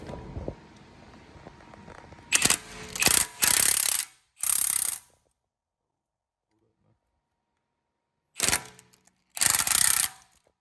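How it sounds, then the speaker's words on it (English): A lug nut is tightened during a Brembo brake swap on a Pontiac G8, heard as a few quick bursts of ratcheting clicks separated by silences, close and fairly loud after an opening stretch of faint background noise. "you just tighten up that lug nut or whatever, and it pulls it right in"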